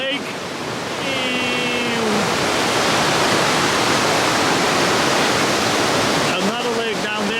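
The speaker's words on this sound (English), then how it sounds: "I can hear the waterfall already" A waterfall roars in a steady, loud broadband rush near a lake at an old mining town in Norway, with a voice talking over it at the start and again near the end.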